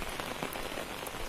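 Rain falls steadily on surfaces in a village in Bihar, a dense, even patter of drops close by.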